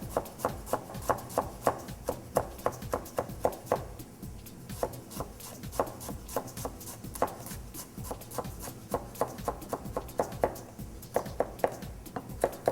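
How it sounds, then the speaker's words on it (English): A knife rapidly minces shallot on a cutting board, a quick, steady run of crisp chopping taps up close with short pauses in between. "we need some shallot that we need to mince up nice and fine"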